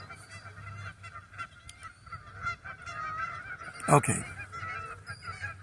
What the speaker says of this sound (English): Listening to the geese come in talking